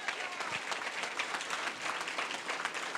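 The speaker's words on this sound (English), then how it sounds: "Let's give her a round of applause." School audience applauding their principal at an 80th birthday celebration, a steady crowd of hands clapping throughout, moderately loud and dense with no voices standing out.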